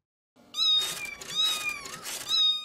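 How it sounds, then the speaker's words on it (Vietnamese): A cat meows several times in a row, loud and near, with long plaintive drawn-out cries in a cartoon setting at night. "Con mèo đêm nào cũng kêu. Ôi, nghe tiếng kêu của nó buồn quá"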